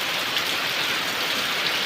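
Steady heavy village rain pours down in a dense, even hiss, close by and unbroken throughout.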